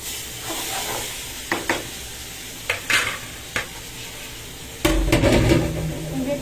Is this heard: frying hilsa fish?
yes